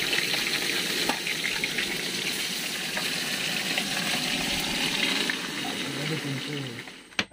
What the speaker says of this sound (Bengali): কয়েক পিস মাছ ভাজা করে নিচ্ছি